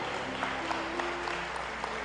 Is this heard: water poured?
no